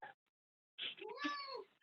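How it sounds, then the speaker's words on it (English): A cat meows indoors, one short chirp followed by a longer drawn-out meow, close and fairly quiet with silence around it. "my cat wants to get out"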